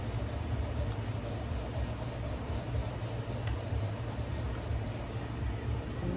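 Sandpaper worked back and forth by hand along a knife blade, a steady close rasping rub that keeps an even, continuous rhythm throughout with no speech.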